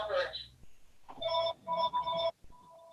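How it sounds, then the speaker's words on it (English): A telephone rings in the background of an improv comedy performance, its bright electronic tone sounding in short bursts while people talk over it. "And my phone's ringing in the background."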